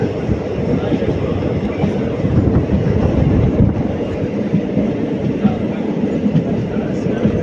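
Passenger train between Karur and Palakkad rolling steadily on the rails near Palani junction, a loud continuous rumble with faint wheel clatter that runs unbroken throughout, with no talking.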